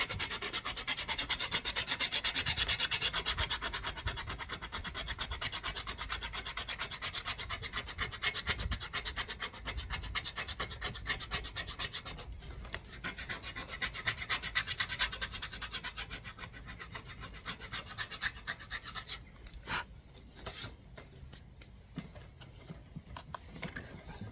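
Sandpaper of 120 grit rubs over a painted wooden sign in quick, continuous back-and-forth strokes, a dry rasping scrape that softens and turns patchy toward the end.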